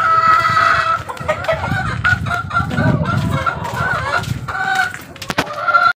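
Chickens clucking and calling in a breeding pen where young chicks are kept, with several birds vocalizing close by in a busy, overlapping chorus of chirps and clucks throughout.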